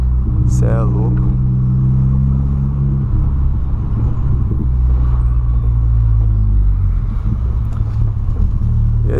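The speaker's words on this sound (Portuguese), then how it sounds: "Nossa, é ruim demais dirigir o carro falhando, velho." A car engine running rough from adulterated fuel rumbles loudly and continuously from inside the cabin, its low drone wavering unevenly while someone talks over it.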